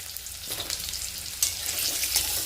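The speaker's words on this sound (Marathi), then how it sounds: "तेल व्यवस्थित गरम झालं गॅस थोडंसं बारीक करायचं म्हणजे मसाला करपणार नाही आणि दोडके व्यवस्थित परतून घ्यायचे" Stuffed ridge gourd sautéing in hot oil for a spicy village-style curry gives a steady, close sizzle and hiss that swells slightly louder toward the end, with no voices.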